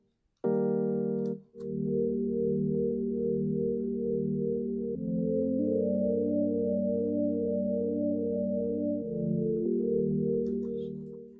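A sustained synth pad preset called Grinder Wave from Kepler, used in an Afro house track, holding long droning chords that shift a few times, alone and fairly quiet after a brief opening note.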